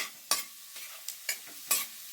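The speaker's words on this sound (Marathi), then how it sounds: "बघा हे जिरं फोडणीला टाकून घ्यायचं" Cumin seeds dropped into hot, reddened tempering oil for a home-style cluster bean (gawar) dish crackle and sizzle in four sharp, close bursts with short fading hisses between them. No one speaks.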